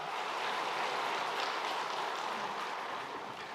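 A church congregation at a Sunday service gives steady, even applause that holds at a moderate level throughout, with a slight fade at the end.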